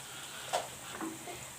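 A quiet, steady sizzle of salted vegetables frying in a pan for menemen, with a faint stir or clink now and then and no talking.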